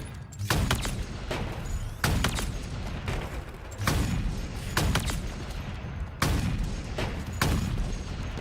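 Gunfire from the Halo video game during a pro league match, with repeated bursts of shots roughly every second or two over steady low rumble, fairly loud and continuous.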